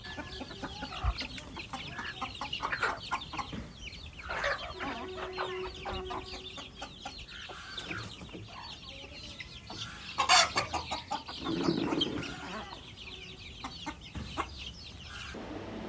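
Native desi hens on a rooftop cluck and murmur repeatedly at close range, with scattered scratching and rustling around them and a brief louder squawk.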